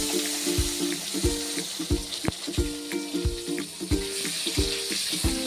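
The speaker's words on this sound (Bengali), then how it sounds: "এই আলুটা একটু লাল লাল করে ভেজে নেব" Potatoes frying in a wok with whole cumin seeds sizzle steadily up close, with a series of regular, rhythmic tonal knocks repeating over the hiss and no speech.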